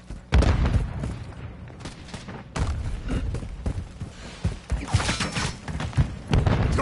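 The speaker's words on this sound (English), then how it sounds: "Stun grenade out." Stun grenade going off during a Modern Warfare III multiplayer match, amid a busy barrage of sharp booms, thuds and gunfire bursts that come in irregular, loud clusters.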